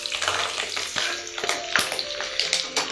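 Green chilies dropped into smoking-hot oil for a quick instant pickle of carrot, radish and chili, giving a steady close sizzle and crackle with small bursts and stirring scrapes, no talk.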